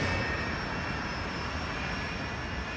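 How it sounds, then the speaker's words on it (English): Tupolev 154 airliner jet engines in flight, a steady broadband roar with a faint whine, constant and moderately loud with no voices. "Bashkirian Airlines Flight 2937 leaves Moscow. The plane is a Tupolev 154."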